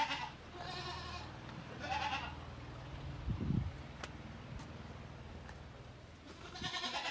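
Goats at a village house give several separate bleats, one near the start, another around the middle and a last one at the end, over a quiet outdoor background without speech.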